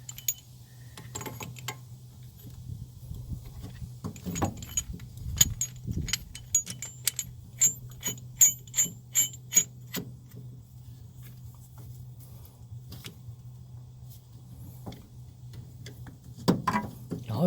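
A tool winds the rear brake caliper piston back into a Mazda 3 with a series of sharp, evenly spaced metallic clicks and ratchets, clustered mid-way, over a low steady hum.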